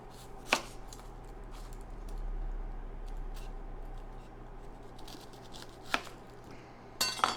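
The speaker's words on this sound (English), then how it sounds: "take your onion, and we're just going to cut off the ends." A knife chops down through an onion onto a cutting board, trimming off its ends. A few sharp thuds are separated by pauses, over a low steady background hum, and no one speaks.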